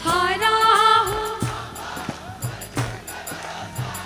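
An audience claps in rhythm during a devotional Khatu Shyam bhajan, sharp hand claps spaced evenly after a singer's sustained sung line.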